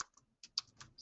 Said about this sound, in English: Let me type that in again.